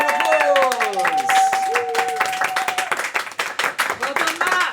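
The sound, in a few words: live show audience applause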